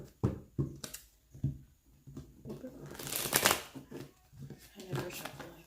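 Tarot cards are shuffled by hand in quick riffling bursts, with a louder flurry midway, while a person talks over the shuffling.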